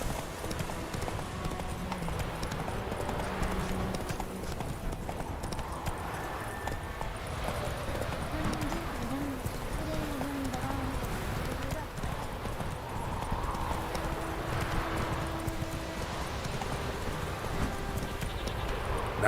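Roach, the horse in The Witcher 3 video game, galloping with rapid rhythmic hoofbeats that run steadily through the clip, mixed with game music and a voice speaking over it.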